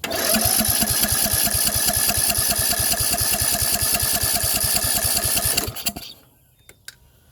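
A lawnmower engine with its spark plug disconnected is spun over, giving a loud, close, fast rhythmic chugging that runs steadily for about six seconds, then cuts off into near silence with a couple of faint clicks.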